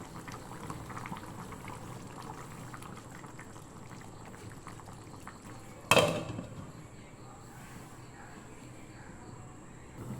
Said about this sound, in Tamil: ஒரு நிமிஷம் ஃபுல்லாக கொதிக்க வச்சு சிம்மில் வச்சு கொதிக்க விடுங்க